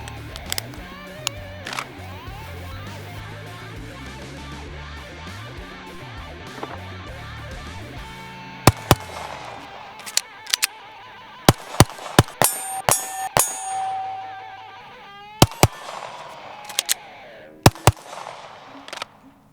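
Handgun fired at steel targets while drawing from a holster during red dot sight zeroing at a range, with sharp loud shots in quick strings and pairs, some ringing steel hits, and a busy noisy stretch beforehand.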